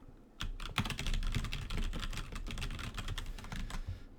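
Steady, rapid clatter of keys on a computer keyboard, close and fairly loud, with dense irregular keystrokes running throughout and no voices.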